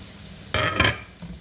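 Garlic goes into a frying pan of sautéed vegetables for beef stroganoff made from leftover roast beef, giving a sudden broadband sizzle and stirring clatter that swells twice, then settles into a quieter hiss with a faint scrape near the end.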